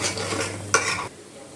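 Chili powder fries in a pan for a coconut milk fish curry, with close stirring scrapes and clinks over a soft sizzle. The sharp stirring stops abruptly about two-thirds of the way through, leaving a faint hiss.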